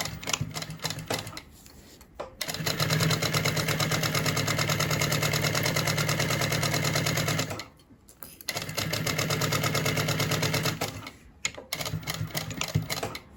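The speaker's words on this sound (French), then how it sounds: "je vais venir coudre la fermeture éclair avec une marge de 6 mm" A sewing machine stitches a zipper onto a bag with a 6 mm seam allowance, running in long, loud, steady mechanical bursts separated by brief pauses.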